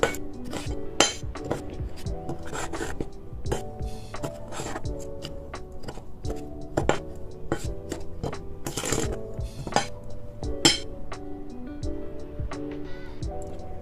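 A spoon clinks and scrapes repeatedly against a bowl while mixing salt and flour, in an irregular rhythm with occasional louder knocks, close up and without talk.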